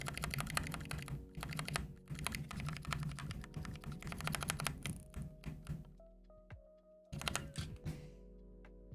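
Wobbly linear mechanical keyboard switches are typed on steadily, producing quiet, close clacks in fast bursts that stop briefly before resuming.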